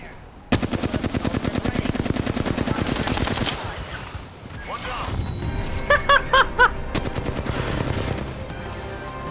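Rapid bursts of Hemlock rifle fire in an Apex Legends ranked match, a loud sustained volley early on, then shorter clipped bursts and pings over game effects and background music.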